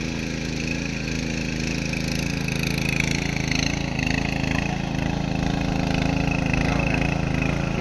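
A tractor engine runs steadily and close by on a village farm, a constant low mechanical drone with no breaks or pauses throughout.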